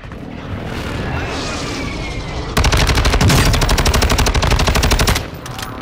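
An STB 556 assault rifle in Warzone 2 on Ashika Island empties a full magazine: a loud, close, rapid stream of automatic shots lasting about two and a half seconds, following a stretch of quieter in-game ambience, then stopping abruptly.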